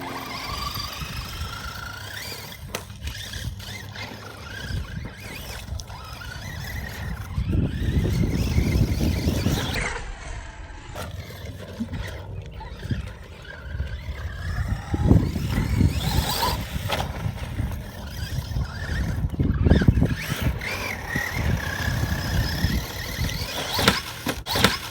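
A JLB Cheetah RC car rips across dirt, its electric motor whining and revving in surges while tires scrabble and spray dirt, loud and close with repeated bursts and squeals.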